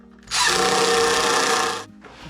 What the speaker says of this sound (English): And then we'll just tighten them up.